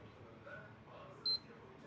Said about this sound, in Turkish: bir tane bip sesi geldi çıkarmayınız